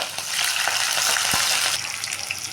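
Dried red chillies, green chillies and sliced onions frying in hot oil in a pan, a steady close sizzle with a light stirring scrape, no voices.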